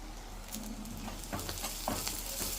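Salt, coriander powder and cumin powder fry in hot oil with ginger-garlic paste for a biryani masala, giving a close, continuous sizzle with soft stirring scrapes.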